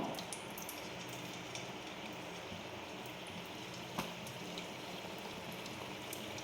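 Pieces of makkan peda dough, a Diwali sweet, frying in lightly heated oil over low flame, giving a steady, soft bubbling sizzle with faint crackles throughout, close and even.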